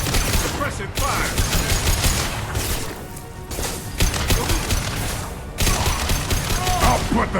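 Sustained gunfire and crashing impacts from a firefight in Mass Effect 2 Legendary Edition, loud dense bursts that dip briefly twice before resuming, with faint voices mixed under the shooting.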